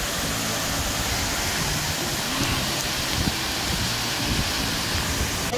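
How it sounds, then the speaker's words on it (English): Bells Rapids waterfall roars steadily from close by, a dense, unbroken wash of rushing water with no pauses and no voices. "So I come to the bottom of the waterfall."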